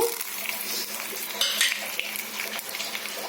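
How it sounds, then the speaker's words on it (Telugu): Tempering spices, dried red chillies and curry leaves crackle and sizzle in hot ghee, a steady frying hiss with brief pops and a spoon scraping the pan, close up. "అందులో పోపు దినుసులు, ఎండుమిరపకాయలు, కరివేపాకు వేసుకున్నాము"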